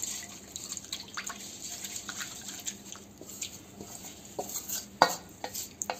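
A spoon stirs a yeast mixture for donut dough in a bowl, soft scraping and swirling with occasional light clinks against the sides, quiet and close, with one sharper tap toward the end.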